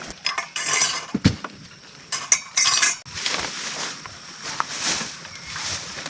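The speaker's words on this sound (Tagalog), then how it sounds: "At magtitimpla na ng kape." A spoon clinks and scrapes against a cup while stirring coffee at a campsite, with rattling utensils and dishes close by, busy and fairly loud.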